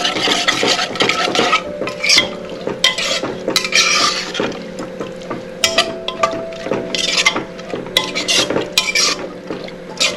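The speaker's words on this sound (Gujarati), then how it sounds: "તો હવે આપણે મિક્સ કરી લઈએ" Pigeon peas, green peas and eggplant curry being mixed in a pan with a spoon, giving repeated scraping and clinking strokes throughout, close and fairly loud over a faint steady background tone.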